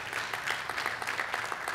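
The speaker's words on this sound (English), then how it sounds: "we can clap for God's grace about that" A church congregation claps together during a sermon on grace, a soft, steady patter of applause heard from a distance without voices.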